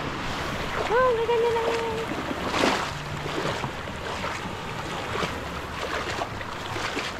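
Sea waves washing around a small boat, a steady broadband wash with surges, close by, while a person talks briefly over it.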